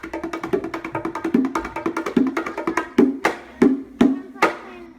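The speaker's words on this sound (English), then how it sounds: "not sticks, to play the bongos, and they sound like this." Hand-played bongos tap out a quick rhythm of bright, resonant hits, close by, ending in a few louder spaced strikes.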